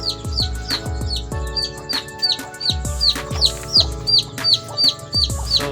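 Breeder chickens clucking and calling in their pens, close and busy, with repeated overlapping clucks and chirps in an uneven rhythm and no talk.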